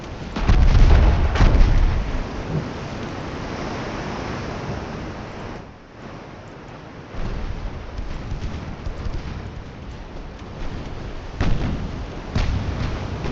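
Incoming naval shells fall short in Ultimate Admiral Dreadnoughts, set in the Spanish-American War: heavy, booming low impacts open the clip and return near the end over a constant rumble of sea and wind.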